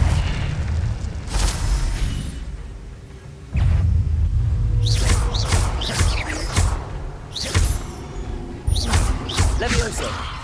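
An Incendio fire spell bursts in a Hogwarts wizarding video game, loud booming whooshes repeating several times over a steady game background.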